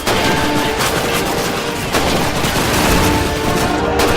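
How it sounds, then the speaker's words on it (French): Loud, dense gunfire from the Call of Duty 2 video game, set in a Russian campaign mission, rattles continuously in rapid overlapping shots and bursts with no pauses and no talk. "Je te tire dessus."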